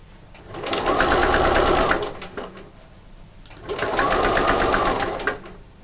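A sewing machine stitches fabric while a lining is sewn, in two sustained bursts of rapid mechanical whirring with a brief pause between them. The motor is close and loud.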